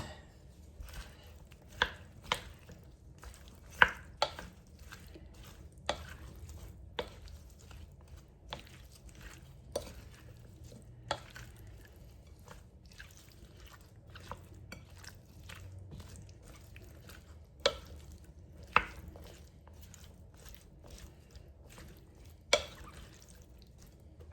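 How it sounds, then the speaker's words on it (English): A knife chops a large onion on a board in sparse, sharp knocks spaced a second or two apart, quiet and close over a faint background, with no speech. "These onion's pretty big. I'm going to cut that a little bit."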